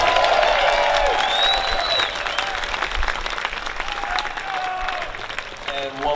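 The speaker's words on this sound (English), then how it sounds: "Give a big round of applause to Rob Ikes over here on the Dobro." Loud audience applause with scattered cheers and whistles at an outdoor bluegrass festival in Grass Valley, California, sustained throughout, with live instruments and voices faintly underneath.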